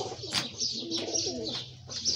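Pet pigeons in a cage coo close by in soft, rolling, repeated phrases with a few light chirps between them, and no talking.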